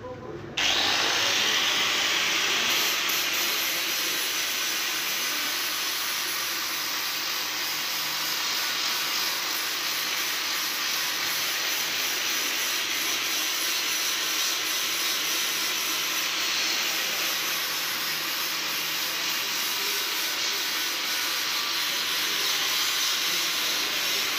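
An AG4 angle grinder bevels a pipe to 37.5 degrees, giving a loud, steady broadband grinding hiss that starts abruptly and runs continuously without a break.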